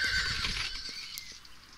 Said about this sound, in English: We got the horse.